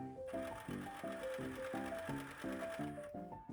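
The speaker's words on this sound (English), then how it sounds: "I pin and sew the waistband in place, leaving some overhang for the button closure." A sewing machine stitching a waistband in place, its rapid rhythmic mechanical chatter running continuously at close range, quiet overall with no voices.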